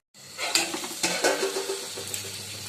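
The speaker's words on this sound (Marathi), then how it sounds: "हे बघा पुन्हा परतून घेते परतून झालेले आहे" Vegetable curry being stirred and sautéed in a pan over low heat, a close soft sizzle with several scraping and clinking strokes of a spoon against the metal, no speech.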